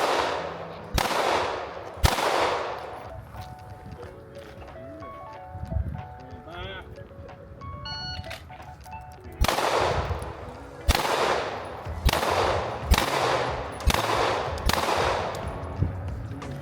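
Gunfire at a local shooting match: sharp, loud shots in irregular bursts, some spaced apart and others in quick succession, with quieter gaps between groups of shots.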